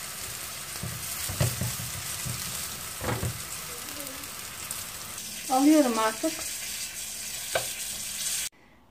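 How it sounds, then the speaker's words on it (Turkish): Yeasted minced-meat börek frying in a modest amount of oil, giving a steady crackling sizzle throughout with brief bursts of louder spitting, while someone speaks briefly over it. "Ben böreklerimi kızarttım."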